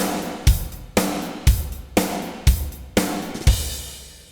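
Programmed drum pattern hitting a steady beat about twice per second, each punchy kick landing with a bright splashing crash cymbal that rings briefly.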